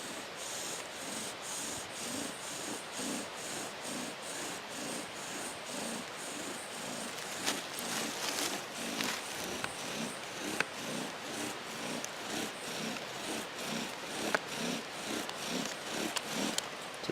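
Wooden bow drill spinning against a fireboard, a steady back-and-forth rubbing and grinding rhythm repeating about twice per second, close and moderately loud, with no talking.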